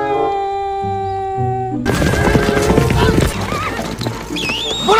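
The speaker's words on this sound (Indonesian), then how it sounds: "Iya, ini namanya kuda. Bahasa Inggrisnya horse." A toy horse gives a harmonic neigh, then clip-clop and whinny sounds play loudly and close, with a person talking over them.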